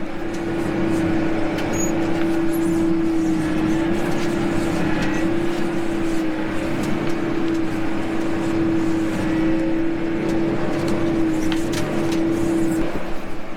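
A farm vehicle drives across a field in spring, its engine holding a steady, loud drone with a constant tonal hum throughout, close by and with no talking.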